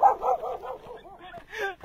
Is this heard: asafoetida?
no